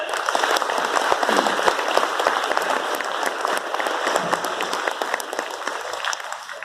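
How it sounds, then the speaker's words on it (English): A large audience applauds six teams on stage at a national rural IT quiz final, a dense, continuous clatter of many hands that tapers off slightly at the end. "Can we have a round of applause for all of them?"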